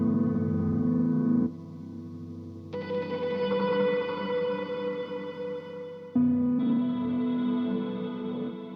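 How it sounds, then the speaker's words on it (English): Sustained electric guitar tones pass through a filter and reverb, the sound switching abruptly between a dry, buzzy tone and a brighter, washed, reverberant texture as the signal routing is swapped. "Pay attention to how different the signal sounds when we swap the routing."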